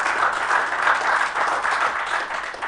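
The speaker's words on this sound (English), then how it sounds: "if you can give them all a round of applause" Sustained applause from a conference audience at WordCamp Johannesburg, an even, continuous wash of many hands clapping at moderate volume with no talking over it.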